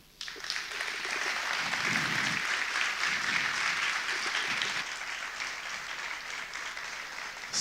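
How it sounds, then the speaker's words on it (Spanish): Sustained applause from a large audience, a dense wash of clapping that swells early and holds steady before tapering slightly. "Un aplauso más fuerte, por favor."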